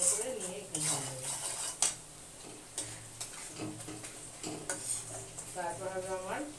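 Yogurt being mashed and stirred in a bowl with a metal spoon while cooking chicken biryani, giving close, repeated scraping and clinking of utensil against the bowl in an uneven rhythm, with faint speech underneath.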